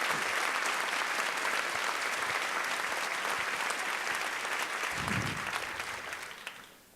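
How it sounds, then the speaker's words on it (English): An audience at a school district opening convocation applauds with steady, even clapping for about six seconds before it tapers off and fades out. "Let's give them a round of applause."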